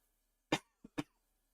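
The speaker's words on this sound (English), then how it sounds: "I'm ready for this cough to go away." Three sharp coughs from one person nearby, a strong one followed by two quicker, weaker ones, with silence around them.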